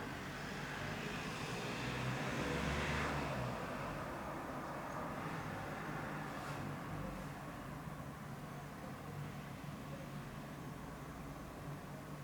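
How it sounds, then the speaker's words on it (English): A car passes faintly in the distance outside a tower in Lagow, Poland, its swell rising and fading against a steady background hiss. "I can hear a car outside the tower."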